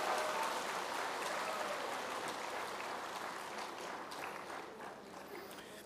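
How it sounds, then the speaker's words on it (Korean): Sustained applause from an audience at a church winter camp evening service, a steady dense wash of clapping that holds throughout and fades slightly toward the end. "다시 한번 큰 박수를 보내주시면 감사하겠습니다"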